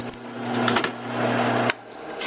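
A small power saw hums steadily while cutting a piece of oak for a mini wind spinner, with a short clatter near the start and an abrupt stop near the end.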